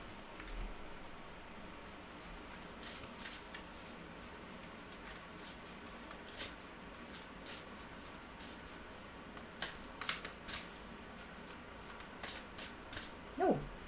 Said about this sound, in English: let's pull a quantum oracle card for you